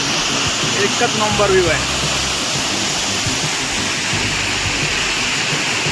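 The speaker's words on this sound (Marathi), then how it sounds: "मधून समोरून असं वाहणारा हा धबधबा" Near Savarli village by Badlapur, Wagbil waterfall pours down with a loud, steady, broadband rushing roar. Someone talks briefly over it near the start, then the water continues alone.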